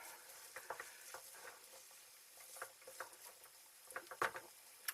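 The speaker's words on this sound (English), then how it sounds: "I'm just going to cook these until they just start to catch on the bottom of the pan" Ingredients for a bolognese cooking in a pan, giving a quiet, steady patter and sizzle with scattered soft pops and a few louder crackles near the end; no talking.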